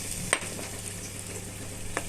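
Water goes into frying spice paste for a Bengali yogurt catla fish curry, bringing a steady crackling sizzle from the pan with a sharp clink near the start and another light knock near the end.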